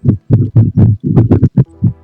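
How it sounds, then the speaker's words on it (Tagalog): Heartbeat sound effect in a Minecraft hardcore game, a loud close thumping of paired beats repeating in a quick steady rhythm for about two seconds, with no talk over it. "Tibok ng puso ko."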